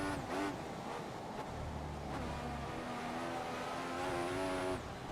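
Simulated F1 race car in F1 2016 (F1 2014 mod) at the Chinese circuit, its high engine whine rising and falling through gear changes on a lap, loud and continuous with a brief low rumble and no talking.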